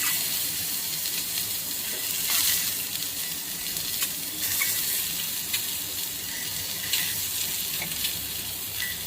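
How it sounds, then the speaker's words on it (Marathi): Boiled eggs sear in a little oil on a tawa for an anda masala gravy, a continuous close sizzle with scattered crackles and pops. "तव्यामध्ये थोडंसं तेल टाकलेलं आहे आणि जी आपण शिजवलेली अंडी आहेत की नाही ती थोडीशी तव्यावर शेकून घेतलेली आहे"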